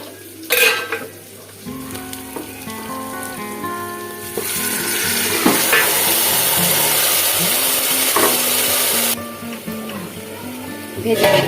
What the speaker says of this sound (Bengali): এখন আমি ম্যারিনেট করা চিকেনটা দিয়ে দেবো